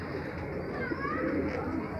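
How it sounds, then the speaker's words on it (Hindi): Khatang pigeons cooing in a loft, soft repeated coos over a steady background hum, with people talking nearby. "ये खतंग कबूतर है ये"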